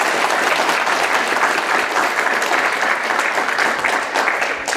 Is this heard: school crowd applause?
yes